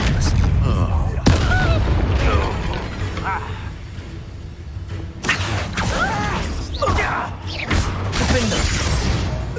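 Expelliarmus disarming spell cast in the Hogwarts Legacy video game, with a dense run of crackling magical blasts, booms and shattering impacts over continuous battle noise.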